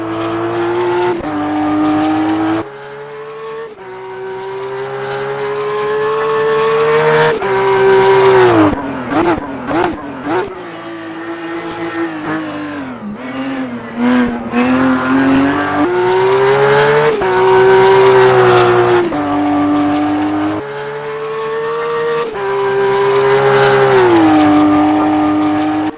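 A Flat 6 5.0 race car in the rFactor 2 racing sim, its engine loud and constant as it revs up and down through gear changes for the whole stretch, with brief dips and sharp shifts midway.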